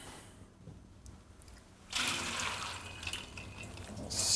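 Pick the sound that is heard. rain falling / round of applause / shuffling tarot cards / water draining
water draining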